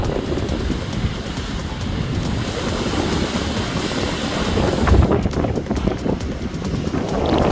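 Strong cyclone winds from Cyclone Asani batter the Kakinada coast with high sea waves, a loud, continuous roar buffeting the microphone, swelling into heavier gusts midway.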